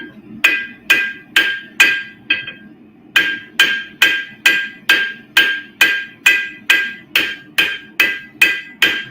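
Heavy hammer blows forging and drawing out a Damascus steel billet, struck in a steady rhythm of about twenty sharp, ringing metallic impacts with a brief pause near the start, loud and close.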